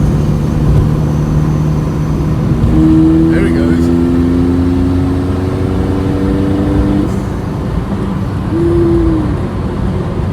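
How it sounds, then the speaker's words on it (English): A tractor diesel engine fitted in a Mk1 VW Golf idles and chugs nearby with a steady low rumble, pitch shifting slightly as it revs; someone speaks briefly over it. "It's a tractor engine."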